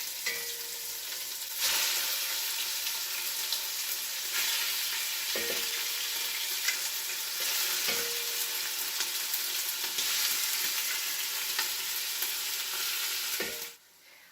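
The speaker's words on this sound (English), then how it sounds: "I heated up some oil over pretty high heat. I'm keeping it on high so that this doesn't boil, but that the meat browns." Meat browns for green chile stew in oil kept over high heat, giving a steady loud sizzle and crackle with a few soft scrapes and pan knocks along the way.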